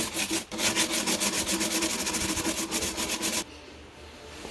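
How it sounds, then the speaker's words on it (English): A painted wooden hutch is sanded in quick, rhythmic back-and-forth strokes, a loud, gritty rasping that runs for about three seconds and then stops abruptly, leaving faint room noise. "so I can move on to sanding"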